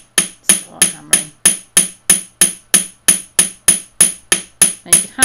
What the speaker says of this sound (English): start hammering.